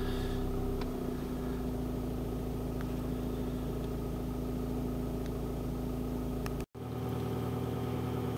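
A warm Audi A3 2.0 TDI diesel engine (BKD) idles at about 1200 RPM with a steady, even hum and faint clatter, close by and without talk, broken by a very brief dropout near the end.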